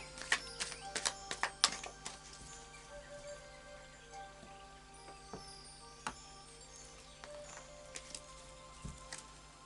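Crisp, irregular clicks and flutters of a Light Seers Tarot deck being shuffled close by, with quick bursts of card edges riffling and no talking.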